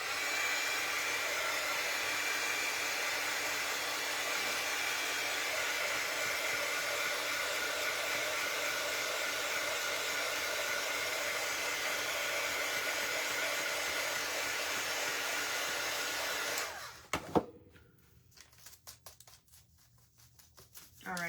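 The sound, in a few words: hair dryer drying craft paint on pumpkin shelf decor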